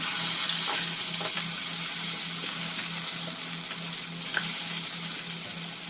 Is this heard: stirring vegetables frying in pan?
yes